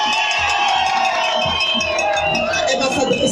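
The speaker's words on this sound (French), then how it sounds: "on applaudit notre maman" A crowd at an Abobo municipal election rally claps and cheers, loud and continuous, with whoops and shouts mixed in and voices running through the din.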